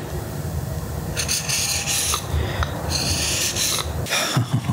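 A superconductor knife is sharpened by hand, giving steady close rasping strokes that run continuously with brief pauses.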